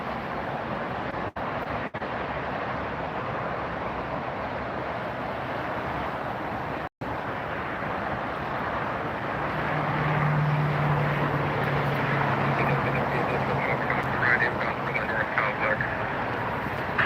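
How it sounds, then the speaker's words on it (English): A British Airways airliner lands at LAX, its engine roar a steady broad rumble that swells slightly toward the end, partly under crackly radio chatter and voices. "on the other side you can see a British Airways landing"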